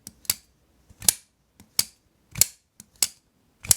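Sharp metallic clicks and snaps repeat at uneven intervals, crisp and close, like a small folding blade being snapped shut again and again.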